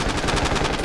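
Sustained rapid automatic gunfire in the battle royale video game Ring of Elysium, a dense burst of repeated shots, loud and close, with no talking.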